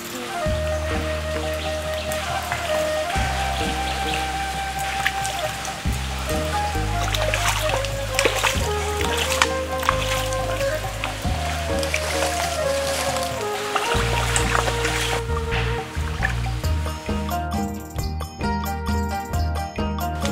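Hilsa fish are washed in river water at a riverside ghat, with continuous splashing, trickling and tinkling water close by alongside a steady tonal background.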